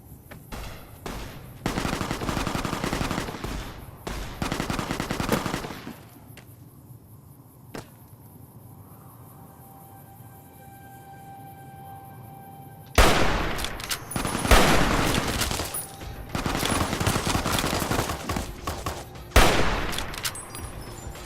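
Bursts of video game gunfire in Fallout: New Vegas, dense rapid shots in loud clusters at the start and again in the second half, separated by a quieter stretch with a faint hum and tones.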